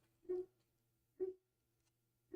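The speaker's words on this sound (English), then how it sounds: "The neighbor's dog is barking." A neighbor's big white dog barking in the distance, three faint, muffled single barks spaced about a second apart over a quiet room.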